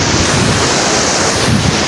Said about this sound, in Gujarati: ઓલા પણ એક બીજો પુલ છે ને નાનો એવો એની માથેથી પાણી જાય છે